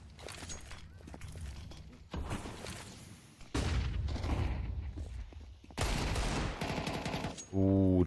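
Rapid bursts of gunfire ring out in a competitive Counter-Strike match, clattering volleys and sharp shots coming in separated clusters, with a caster's voice talking over parts of the action.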